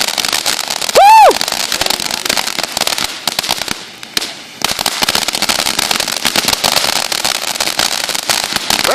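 A Fourth of July fireworks finale explodes in a dense, continuous barrage of loud crackling bursts and booms, with a rising whistle near the start and a brief lull midway before the volleys resume.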